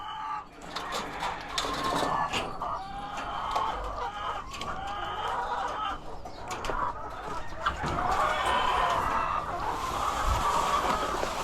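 Chickens cluck busily inside a coop, several birds overlapping in a continuous close chatter of short calls and squawks with no talk.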